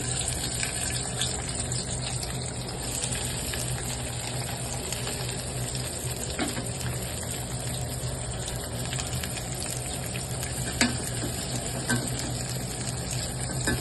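Onions sauté in a pan for curry leaf chicken, a steady low sizzle with occasional stirring scrapes, continuing evenly with no talking.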